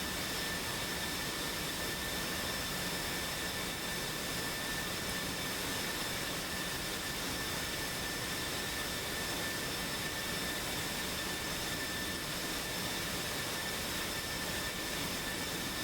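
Jet aircraft, an F-16, in a flight video game roars steadily through the whole stretch, a constant broadband engine rush with a thin high whine, no talk over it.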